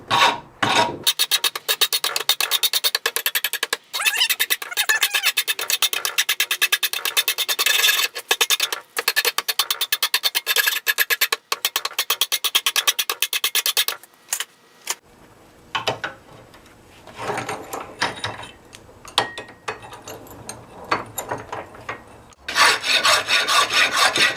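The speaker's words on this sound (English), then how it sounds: "Who needs stinking power tools? I got a horseshoe rasp." A horseshoe rasp files metal at a forge, making long, loud, rhythmic rasping strokes that run almost continuously, with short pauses and a rougher, uneven scraping later on.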